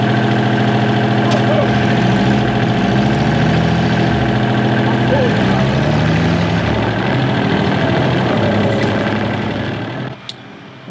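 A tractor engine runs at a steady idle among dead birch trees, a loud, close, throbbing drone that fades slightly near the end before a sharp knock.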